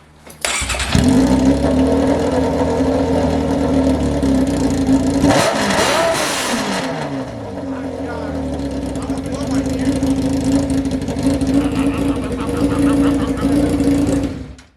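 A car engine running through a straight exhaust with no catalytic converter, resonator or muffler, loud and close, with a sharp rev swell midway and a steady rumbling idle around it; voices are heard over the engine.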